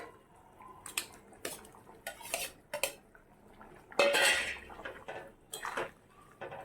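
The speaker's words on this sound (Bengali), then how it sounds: "আমি এবার চিংড়ি মাছটা দিয়ে দেবো।" Prawns going into a simmering potol curry in a pan, heard as scattered clinks and scrapes of a metal utensil against the pan with some soft wet stirring, fairly quiet and close.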